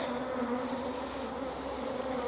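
Honey bees buzz thickly around a beekeeper at the hive, a steady close swarm drone with layered wingbeat tones and no voices.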